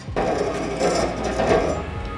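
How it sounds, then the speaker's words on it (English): Deburring tool scraping the cut end of a plumbing pipe for a shower pan install, a steady close rasping and grinding that runs continuously with slight swells, no talk. "Now I'm gonna deburr it, which gets rid of the sharp edges."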